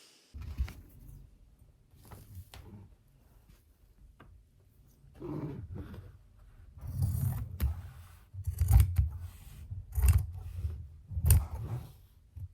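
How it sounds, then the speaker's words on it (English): Scissors snip through a fabric pattern piece for a simple shirt, giving a series of short, close cuts and crunches with louder strokes toward the end and no talking. "I'm just cutting out the back pattern piece"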